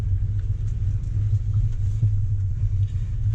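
Range Rover Velar crawling off-road in first gear with the transmission in sport mode, a steady low engine rumble holding close and even throughout with no revving.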